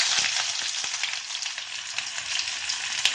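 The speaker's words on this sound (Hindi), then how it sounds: "प्याज को भी हल्का ब्राउन कलर आने तक हम भूनेंगे" Onions and garlic fry in a pan for a sabzi, a steady close sizzle with scattered faint pops and crackles and no voices.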